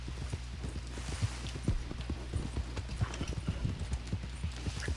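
Horse hooves clip-clop in a steady galloping rhythm in Red Dead Redemption on PlayStation 4, a close, continuous patter of footfalls with occasional snorts, no talking over it.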